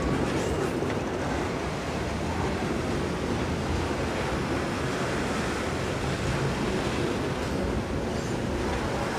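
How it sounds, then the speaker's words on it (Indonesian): Steady broadband rumble and rushing noise of a train running from Cilacap toward Rancaekek, continuous and fairly loud with no distinct horn or voices. "Ini kereta dari Cilacap menuju stasiun akhir Ranca Ekek ya."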